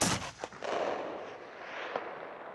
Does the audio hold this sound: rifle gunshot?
yes